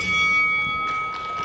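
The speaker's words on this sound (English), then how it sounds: "the bell, end of round 3" A ring bell sounds at a British-rules wrestling match to end round 3, a single bright ring with a sustained tone over crowd noise.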